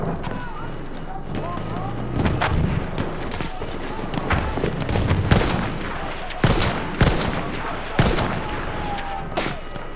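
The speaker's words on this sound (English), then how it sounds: "Someone's trying to shoot us." Rapid gunfire in the video game Battlefield 1, with sharp shots and bursts cracking at irregular intervals over steady battlefield noise, some near and loud, others farther off, while voices talk over the action.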